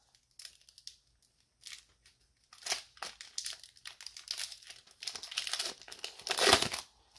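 A 2002-03 Fleer Authentix basketball hobby pack wrapper is crinkled and torn open after being cut with scissors, giving close, quiet bursts of crackling foil that grow denser and louder toward the end, with no talking.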